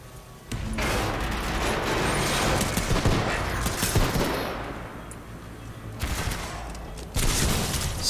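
Sustained energy LMG fire from the Titanfall 2 video game, a dense rattling fusillade with booming impacts that swells, dips slightly midway, then surges again in loud bursts near the end.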